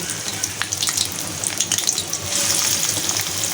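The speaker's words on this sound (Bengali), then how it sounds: "তেলটা গরম হয়ে গেছে, এখন আমি পেঁয়াজগুলো দিয়ে দিব।" Onions dropped into hot oil for a dried loitta fish bhuna, frying with a loud, continuous sizzle and crackle that swells louder toward the end, with occasional stirring and water-like hissing, no voices.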